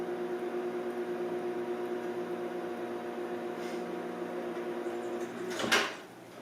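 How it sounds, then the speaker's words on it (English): Microwave oven humming steadily while softening butter for snickerdoodle dough, a constant mid-level drone with a sharp click or door clunk near the end. "I microwaved it for a minute"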